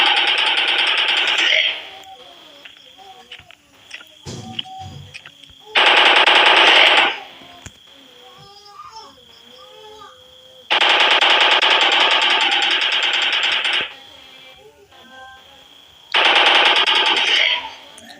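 Rapid automatic gunfire from shooting enemies in the mobile game Indian Bike Driving 3D, arriving in several long sustained bursts separated by short pauses filled with quieter game sounds.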